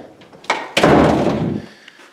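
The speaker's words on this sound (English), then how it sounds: "Finally, we go across the hall after we lock the door" A door is pushed shut and locked across a hallway: a light knock, then a heavy, close thud that rings out briefly before fading, with no talking.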